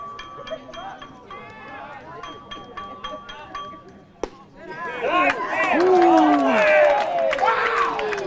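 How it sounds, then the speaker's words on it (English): A crowd at a baseball district championship final reacts loudly to an umpire's call, with voices rising into a mix of shouts and jeers after a sharp crack; a few voices speak beforehand against the quieter ballpark background. "Tell by the crowd reaction, they didn't much appreciate that call."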